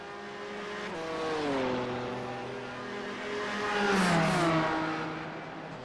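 BMW M4 GT4 race cars in a racing video game at Suzuka, their engines droning with rising and falling pitch as they shift and accelerate, a steady loud whine that swells around the middle and again near the end.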